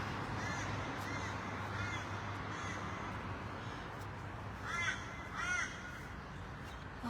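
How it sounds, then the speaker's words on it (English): A crow caws outdoors at Boggo Road Jail, several harsh calls spaced across the clip with a pair of louder caws near the end, heard at moderate distance over a low steady background hum. "Oh, there's a crow."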